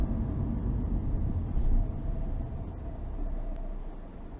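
A car engine hums low and muffled from inside the cabin during a driving test, a soft steady rumble with road noise and no speech.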